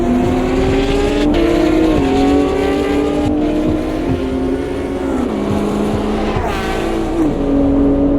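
Several race cars in a GT racing video game scream past on a narrow, fast track, loud and continuous, with engine pitch rising and dropping as gears shift and cars pass close by.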